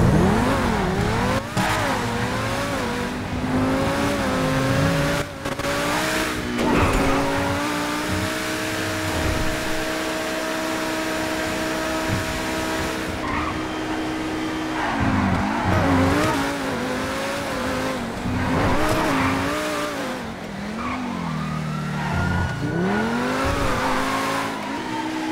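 Race cars in a video game race scream through high revving acceleration with rising and falling engine pitch and bursts of tire squeal, loud and continuous for the whole stretch without talk.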